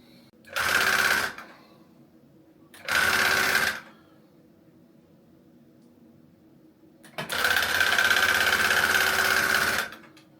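A tufting gun runs in three bursts, two short ones and then a longer one of about three seconds, each a loud, close mechanical buzzing whir, separated by quiet gaps with a low background hum.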